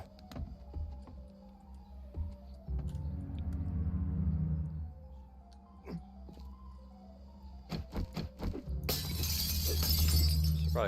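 Glass shattering in the survival video game 7 Days to Die, with scattered knocks and thuds leading up to a loud burst of breaking, tinkling glass near the end over a low game rumble.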